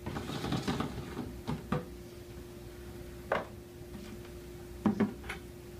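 A plastic Gamma Seal bucket lid is spun off its ring, making a few short scraping, ratcheting clicks in separate bursts against a quiet room hum.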